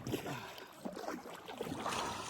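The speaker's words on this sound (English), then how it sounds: "All I'm doing is paddling" Kayak paddling across Backstairs Passage on open sea, wind and water washing steadily with soft splashy strokes surging at irregular intervals, close and moderately loud, no voices.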